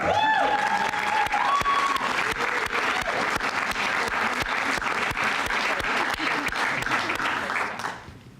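Audience applause at the Saint Paul EMS Academy winter 2013 graduation ceremony, a dense steady clapping from a large crowd held at full strength for about eight seconds before quickly tapering off.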